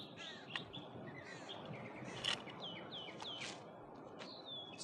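Birds chirp and call repeatedly at a distance over a soft outdoor background hiss in a woodland camp scene from a wildlife thriller film.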